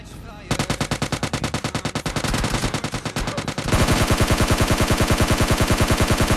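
Rapid automatic gunfire in PUBG Mobile Lite rattles loudly in a fast, even stream of shots. Partway through, the bursts grow denser and heavier, like several weapons firing at once, including a shotgun.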